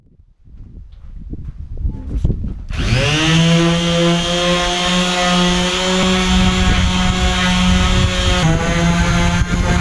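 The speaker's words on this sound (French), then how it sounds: "je viens de passer un gros coup de ponceuse avec un grain assez gros" A coarse-grit power sander starts up and runs steadily on the bodywork of a Volkswagen Passat, a loud constant whine after some shuffling handling noises.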